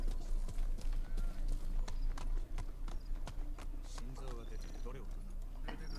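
Horse hooves clip-clop steadily at close range while riding through Ghost of Tsushima, with birds and pigeon coos in the game's background and a voice speaking over the riding.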